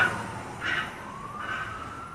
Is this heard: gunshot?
no